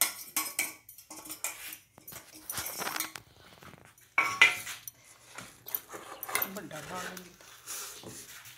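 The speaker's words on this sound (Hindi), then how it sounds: "ਇਹ ਅਸੀਂ ਚੌਰਸ ਪੀਸ ਕੱਟ ਰਹੇ ਹਾਂ" Gajak in a ghee-greased plate being cut into square pieces, with repeated metallic clinks and scrapes of a utensil against the plate in uneven bursts, while a person talks over it.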